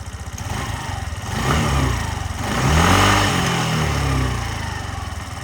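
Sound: scooter engine running

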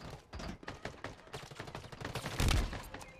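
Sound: pistol gunfire in a video game

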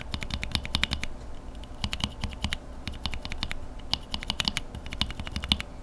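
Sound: Novelkeys Cream keyboard switch lubed with 205G0 being typed

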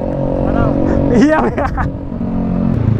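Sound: Yamaha NMAX 2019 bore-up 200cc motorcycle, stock exhaust

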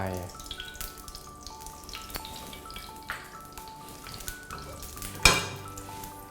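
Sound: oil heating in a pan for stir-frying

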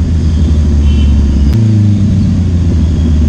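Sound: Yamaha R15 motorcycle engine revving

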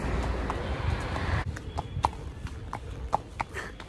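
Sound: horse hooves clip-clopping

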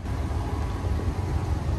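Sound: locomotive approaching the train

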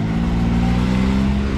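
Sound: Can-Am X3 Maverick turbo side-by-side accelerating

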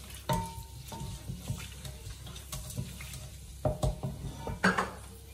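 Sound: sliced onions added to a pan for fish curry

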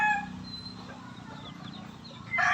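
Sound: bulik breed chicken, seven months old

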